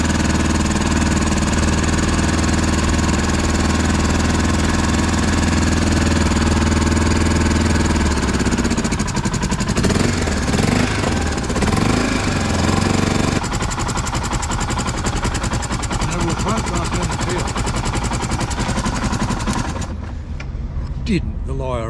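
A Suzuki DR650 motorcycle engine runs noisy and throaty close by, a loud steady rumble with a rapid pulsing exhaust beat, briefly revving before dropping away near the end.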